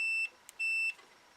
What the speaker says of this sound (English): we're set on continuity where it makes the beepy sound